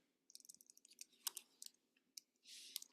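Light clicks from a computer keyboard come in quick, uneven bursts of keystrokes, faint and close, with a short steadier rush near the end and no voices.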